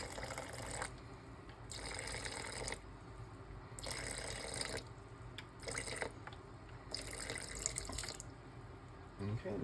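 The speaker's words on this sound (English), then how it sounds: "Then we're going to mix in our water here." Water pours into a sourdough mixing bowl of 60% wholegrain organic flour dough in about five separate bursts, each lasting roughly a second, with quieter gaps between them.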